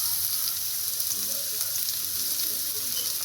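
Crushed ginger and garlic frying in oil in a pan for pork fry, a dense, even, close sizzle that holds steady throughout with no voices.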